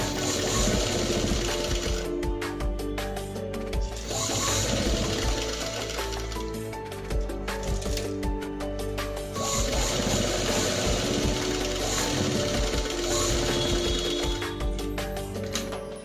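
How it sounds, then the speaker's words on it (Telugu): A sewing machine stitches a blouse neck with a fast, steady mechanical rattle, running close and continuous with a few brief pauses. "మీకు చూపిస్తున్నాను విధంగా నెక్ని స్టిచ్ చేసుకుంటాను."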